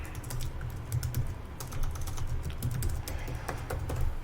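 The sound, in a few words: typing a password on a computer keyboard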